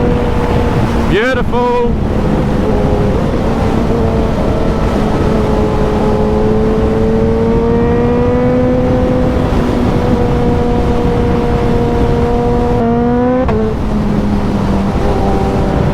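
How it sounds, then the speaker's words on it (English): A high-performance motorcycle on a scenic road ride from Glasgow to Oban holds a loud, steady engine note under wind rush. The note is cut by two brief quick-shifter gear changes, and a single word is spoken. "Sounds like a MotoGP bike, genuinely"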